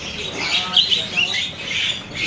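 Caged murai medan songbirds at a bird-shop kiosk give bright, shrill calls and squawky chirps in quick bursts, close by and fairly loud, with a steady background hum throughout.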